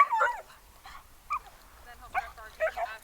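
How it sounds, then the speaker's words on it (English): A dog gives short yips and whimpering bark bursts in a training session, several sharp cries spread unevenly over a few seconds, close and fairly quiet. "he'll start barking"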